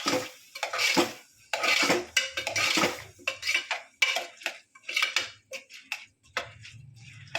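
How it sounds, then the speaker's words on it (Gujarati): A spoon scrapes and clinks repeatedly against a metal pot in uneven bursts, close up, as cumin and red chili powder are stirred in while making khichdi. "સારી રીતે હલાવી નાખશું."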